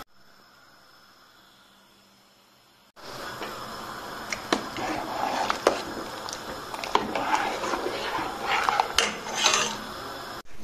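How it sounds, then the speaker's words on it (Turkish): Thick béchamel-based mixture being poured and scraped from a pot into a Pyrex glass baking dish, with dense clinks of metal utensil against glass and cookware, close and busy throughout after a quiet start. "Şimdi borcama dökeceğim."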